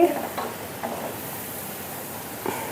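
Rose cookies fry in hot oil with a soft, steady sizzle, broken by a few brief stirring scrapes and clinks, fairly quiet throughout.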